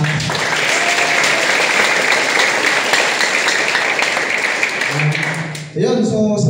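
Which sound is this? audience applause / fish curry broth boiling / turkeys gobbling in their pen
audience applause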